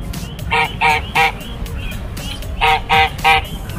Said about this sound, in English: I think they're geese.